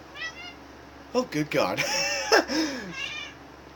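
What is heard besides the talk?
cat meowing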